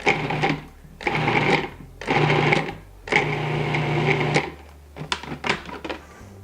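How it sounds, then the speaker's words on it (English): Food processor pulsing mushrooms into fine bits, a series of loud whirring bursts of about a second each separated by short pauses, then quicker, shorter pulses at the end. "we're gonna go ahead and pulse our mushrooms about 10 times till they're nice and fine"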